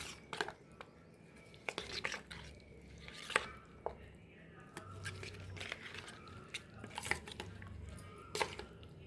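Salad ingredients being stirred with curd in a bowl for a healthy breakfast salad, producing soft wet squishes and light spoon taps against the bowl in an irregular rhythm, with quiet talk in the background.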